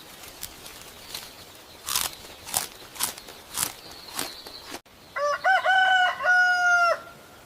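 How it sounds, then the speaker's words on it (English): A rooster crows loudly and close in one long, clear cock-a-doodle-doo, preceded by a run of sharp crunching and rustling noises. "This is a rooster."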